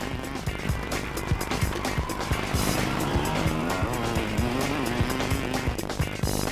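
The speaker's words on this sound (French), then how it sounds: "Observez comment Cyril contrôle sa moto en la serrant entre ses jambes" An enduro motorcycle braking and accelerating through a corner, its engine note loud and continuous with rising and falling revs and repeated sharp pulses, close by with no talk.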